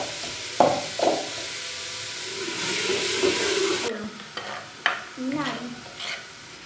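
Chopped onions browning in a pan for keema matar, with a soft sizzle, scraping stirs and a couple of sharp clinks of utensil on pan, while someone talks over the cooking.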